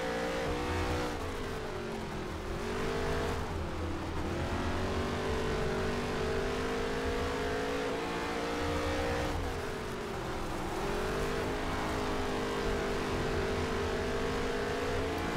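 NASCAR race cars running laps on a dirt track in a racing video game, engines droning and rising and falling in pitch as the car accelerates and lifts, steady loud roar throughout with no talk.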